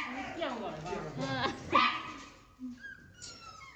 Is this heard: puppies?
yes